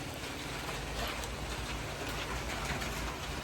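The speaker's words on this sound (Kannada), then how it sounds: "ಮಳೆ ಬರ್ತಾ ಇದೆ, ಸ್ವಲ್ಪ ತುಂತುರು ಮಳೆ" Light drizzle patters steadily on a sheet-metal roof, a dense continuous hiss of fine drops with no voices.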